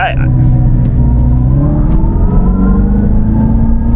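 An electric conversion of a General Lee car accelerates hard, heard from inside the cabin as a loud, steady whine that climbs smoothly in pitch over a deep road rumble.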